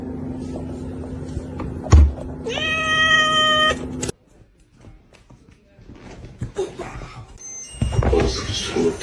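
A cat gives a single clear, drawn-out meow near the start, followed by quieter household noise and people talking.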